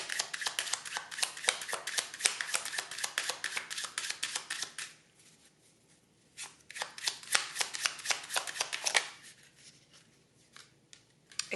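A deck of emotion oracle cards is shuffled by hand: rapid, crisp riffling in two long bursts separated by a brief near-silent pause, close and fairly loud, with no talking.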